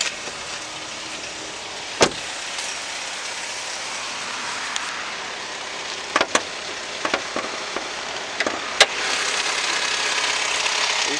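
A Chevrolet Captiva with a 2.4 Ecotec LE9 engine idles steadily at close range in an auto parts yard. The even running tone is broken by a few sharp clicks and knocks.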